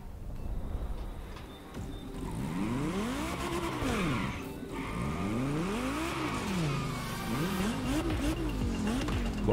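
An Aezus hypercar in The Crew Motorfest racing game accelerates hard on a circuit, its engine note climbing and dropping through repeated gear shifts with a loud, continuous roar and faint tire squeal.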